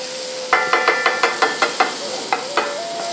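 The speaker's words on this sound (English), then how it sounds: "the squash is just going to get kind of seared on both sides real quick" Mushrooms and rabbit sear in a pan, a light sizzle broken by about a dozen evenly spaced stirring scrapes and taps, close and fairly loud, with no talking.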